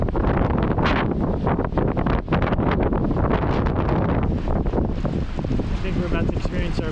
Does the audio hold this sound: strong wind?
yes